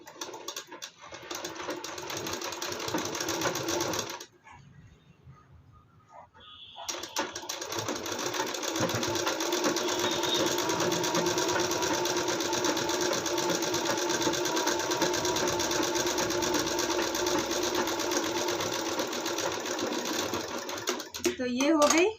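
A sewing machine stitching an embroidered blouse runs in a loud steady whir, stops briefly for a few seconds, then resumes and keeps a continuous close-up hum to the end, with someone speaking over it.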